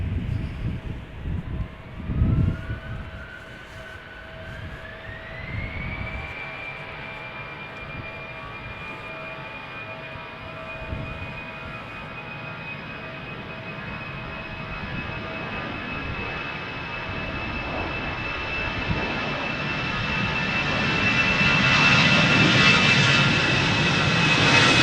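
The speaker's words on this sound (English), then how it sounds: "EasyJet A319 to London Gatwick, lined up right now, 17 years old," An EasyJet Airbus A319 jet bound for London Gatwick departs Amsterdam Schiphol, its engines spooling up with a rising whine that settles into a steady tone, then swelling into a loud broadband roar as takeoff thrust builds.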